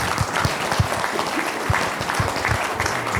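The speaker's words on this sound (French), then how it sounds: "Je ne crois pas que je mérite ces applaudissements." Steady applause from an audience at a colloquium at the Château d'Ainay-le-Vieil, a dense patter of many hands clapping continuously at even volume throughout.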